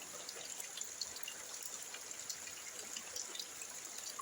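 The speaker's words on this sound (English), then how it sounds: "Nice spring rain." Spring rain falls in rural Jamaica as a steady, faint hiss and patter with no break, occasional closer drips over the even wash of sound.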